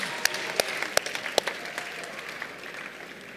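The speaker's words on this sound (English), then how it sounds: "Give yourself another round of applause" A room of game contestants and audience members breaks into short, steady applause, with several sharp individual claps standing out early before the clapping settles and tapers, heard alone without talk.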